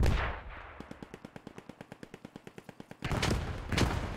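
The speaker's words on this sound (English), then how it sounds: "There it is, explosions everywhere" Rapid automatic gunfire rattles in a steady burst of about twenty evenly spaced shots during a WWII video game battle, framed by louder rumbling blasts and noisy explosions before and after.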